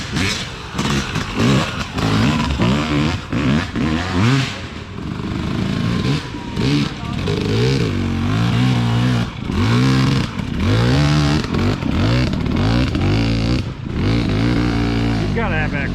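Engines of dirt bikes or ATVs in a cross-country race revving loudly and repeatedly nearby, the pitch rising and falling in rough swells, with people talking and cheering over them.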